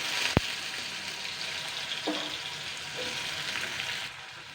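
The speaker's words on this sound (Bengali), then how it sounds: "এটাকে আমি জাস্ট সুন্দর করে যেরকম আলু ভাজা করে সেরকম করে আমি ফ্রাই করে নেব।" Two small peeled, cut potatoes fry in oil with well-charred dried chilli, giving a steady close sizzle with a sharp click near the start and a few faint stirring scrapes.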